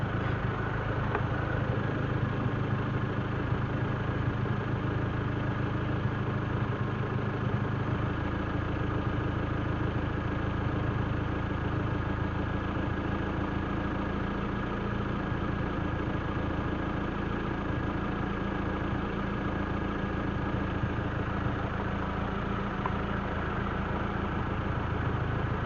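A Proton Waja MMC automatic car engine idles high with a steady, even hum and drone for the whole stretch, constant in loudness and with no talking.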